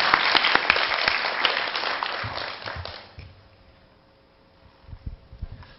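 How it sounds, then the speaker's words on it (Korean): At a government forum on skilled technicians, an audience warmly applauds an incoming guest speaker. The dense clapping lasts about three seconds and then dies away into a quiet room, with a few soft thumps and stray claps near the end. "큰 박수로 환영해 주시기 바랍니다."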